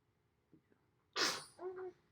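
A single sharp sneeze bursts out after a couple of faint soft knocks, followed by a short voiced tail, close and loud against quiet.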